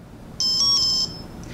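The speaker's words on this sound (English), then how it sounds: "That is the sound of our Joy Detector ready to go" AIY Vision Kit running the Joy Detector gives a single steady high electronic beep, about two-thirds of a second long, clear and close over faint background hiss.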